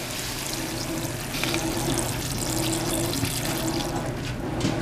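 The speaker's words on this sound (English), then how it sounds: "Add some water just to cover them." Water run into a pot to cover red beans, a continuous rushing tap-like pour that stays close and fairly loud throughout, with no talking.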